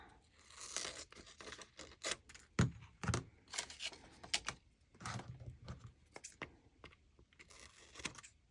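Scissors snipping away excess paper during a page-flip craft project with vellum stickers, heard as a series of close, crisp cuts and rustles in irregular bursts with short pauses between.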